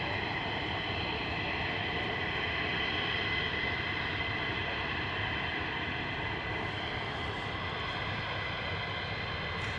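An F-15 fighter jet roars at RAF Lakenheath, a steady, broad and dense engine rumble and whine that holds at even loudness throughout with no voices.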